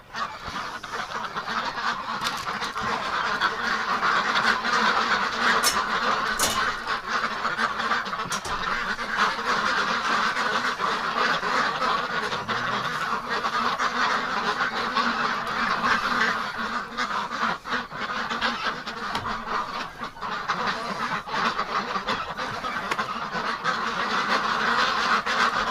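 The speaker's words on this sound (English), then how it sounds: "Hi, ducks." A flock of ducks quacks and honks continuously in winter, with dense, overlapping calls close by and loud throughout, a few sharper knocks standing out among them.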